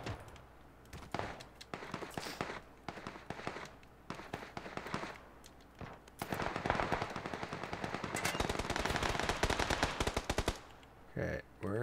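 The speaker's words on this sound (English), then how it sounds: "Okay, where is that guy shooting me from?" Gunfire in an online battle-royale video game sounds as rapid automatic bursts and single shots, some distant and some close, swelling into dense sustained firing in the later half, with faint game noise underneath.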